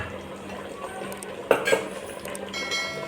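Spoon stirring ground coriander powder into a pot of village-style country chicken curry, soft scraping with a couple of sharper metallic clinks midway over a low background hum.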